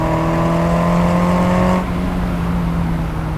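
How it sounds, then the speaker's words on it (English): A modified 2-litre four-cylinder engine in a Mazda MX-5 NC drones loud and steady from close by, its tone holding at high revs before easing off partway through, with no voices. "It sounds so much better than I remember a 4-cylinder,"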